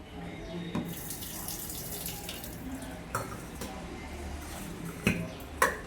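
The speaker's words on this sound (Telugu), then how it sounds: "అన్నం అయితే వార్చేస్తున్నాను." Water from freshly boiled rice is drained into a kitchen sink, a steady close running-water wash with a few sharp clinks of the pot, no talking.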